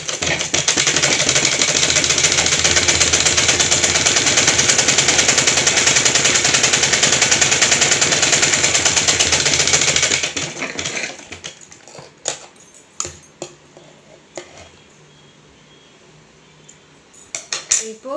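A sewing machine stitches the falls edge of a saree in a fast, steady mechanical rattle for about ten seconds, then stops, leaving scattered clicks and handling noises.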